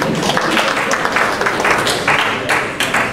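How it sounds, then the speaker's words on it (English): An audience at a medical talk on brain aneurysm surgery claps, loud and close, with irregular bursts of hand claps and a brief voice or two underneath. "You can clap again if you want."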